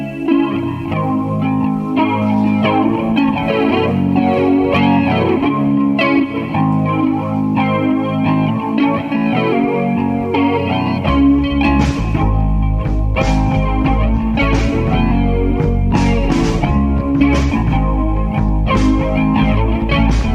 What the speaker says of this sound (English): we're going to play some music here